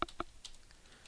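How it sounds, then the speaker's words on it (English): A few quiet keystrokes on a computer keyboard, two or three distinct taps in a brief burst, faint and close with no talking. "you can type in a brief description"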